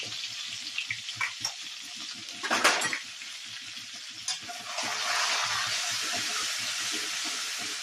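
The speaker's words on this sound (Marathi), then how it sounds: "आणि आता हे वाटण. तेलात आता छान फ्राय करून घेऊया." Spice paste for Punjabi samosa filling fries in hot oil, giving a steady close sizzle and hiss that swells louder in the second half, with brief stirring scrapes and clinks earlier on.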